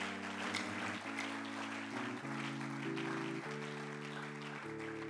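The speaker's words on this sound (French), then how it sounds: "Est-ce que tu peux acclamer pour Dieu?" A church congregation claps and cheers steadily in sustained applause, alone over a held organ or keyboard chord that shifts pitch throughout.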